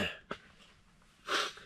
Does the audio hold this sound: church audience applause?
no